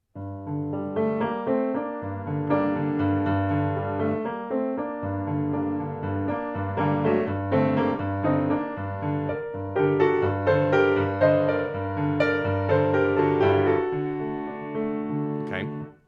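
Piano plays a flowing Heller etude passage with continuous sustained notes and chords, moderately loud and unaccompanied.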